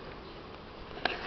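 Honey bees fly at their hives on a warming spring day while willows bloom, making a close, continuous buzzing hum with one brief louder pass near the end.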